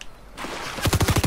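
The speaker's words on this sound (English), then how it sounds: "there's a guy shooting at me" Rapid gunfire in the Fortnite video game, a burst of loud, evenly spaced automatic shots following a brief rising noise, heard alone without talk.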